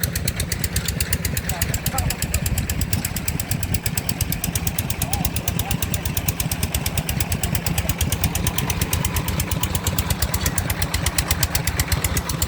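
A loud water well drilling machine engine runs continuously with a fast, rhythmic knocking pulse, pounding steadily nearby.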